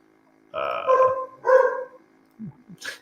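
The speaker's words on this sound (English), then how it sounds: "There's the dog again" A dog barks twice nearby, two loud gruff woofs in quick succession, followed by a few softer yips and sounds in an otherwise quiet room.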